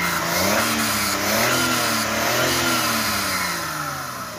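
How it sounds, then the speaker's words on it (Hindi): A Maruti Suzuki Wagon R with an overheating problem revs repeatedly while warming up, its engine pitch rising and falling in several close, loud swells with no talk over it. "थोड़ा सा गर्म करते हैं गाड़ी को"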